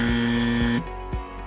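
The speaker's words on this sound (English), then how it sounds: "Your buzzers will go live now." A quiz-show buzzer sounds as a loud, steady electronic drone for almost a second and then cuts off, with faint thumps around it.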